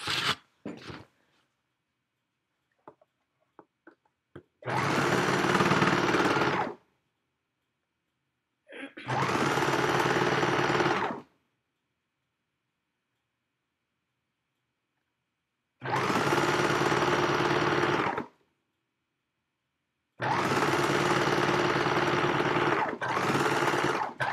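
A sewing machine stitches around a qaspeq sleeve in four loud, close bursts of a couple of seconds each, separated by quiet gaps with faint handling clicks.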